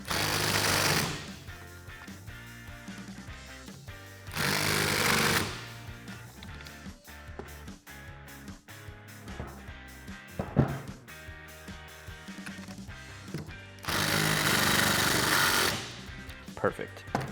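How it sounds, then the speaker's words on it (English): Impact gun with a 15 mm socket tightening nuts on an F150 front leveling kit, three loud rattling bursts of a few seconds each separated by quieter workshop noise. "I'm going to grab my 15 millimeter socket and my impact gun, and I'm going to tighten these guys down"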